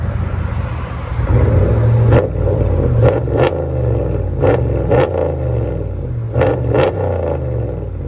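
A RAM 5.7L HEMI V8 truck exhaust with a Dynomax race bullet muffler rumbles deeply at idle, with several sharp throttle blips rising and falling in quick succession.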